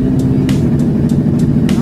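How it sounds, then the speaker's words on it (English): A 1000hp turbocharged Camaro sits on the two-step, its engine roaring loud and close with a rough, steady rumble and sharp periodic pops as boost builds. "RPM starts shooting up, car starts building boost, get all the way up on the two-step"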